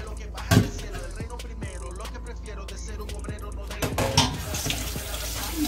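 Boneless beef stew meat is rinsed under a running kitchen tap, with steady water splashing into the sink and a few louder knocks and splashes as the meat is handled, no talk.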